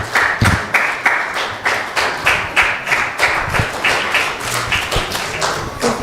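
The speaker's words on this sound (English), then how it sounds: "so big round of applause for the Kapoor family." Audience clapping at a Gita Jayanti gathering to celebrate a family's anniversary and birthday, heard as a steady, rhythmic beat of claps at moderate volume, nothing else over it.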